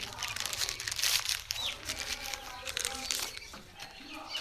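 Plastic packaging around a bottle of Buraq Nigella massage oil crinkles and tears close by, a busy stretch of rustling with a few sharper rips, while a person speaks over it.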